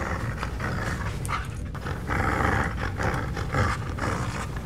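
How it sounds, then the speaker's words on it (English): A dog in the video game Steve's Office growls and snarls continuously, a low, rough, rumbling sound close and fairly loud, pulsing in uneven bursts with no pauses. "I wish that dog would shut up growling."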